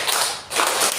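Hand claps in a classroom discipline exercise, a few quick sharp claps close by with a brief pause between groups, with no talking.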